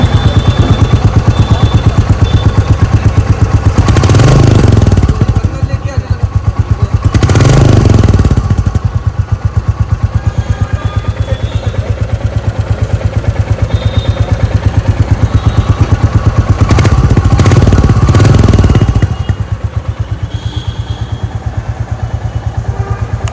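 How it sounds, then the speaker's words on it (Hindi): A Royal Enfield Classic 350 motorcycle idles loudly close by with a steady thumping beat, and its engine rises in a few brief throttle blips. "इस बाइक का साउंड भी आप सुन लो कैसा साउंड आता है"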